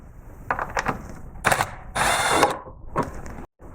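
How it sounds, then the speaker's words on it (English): A 6mm ratchet clicks in short separate bursts while loosening worm drive clamps on the charge pipes of a BMW M2/M3/M4 with the S55 engine, heard up close with brief pauses and no talking. "we'll have to take our 6mm again and get on these worm drive clamps,"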